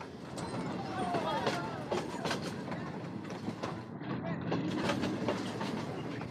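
A moving train in a film rumbles steadily with rhythmic clickety-clack of wheels on rails and occasional squeals, loud and continuous, with a voice speaking over it.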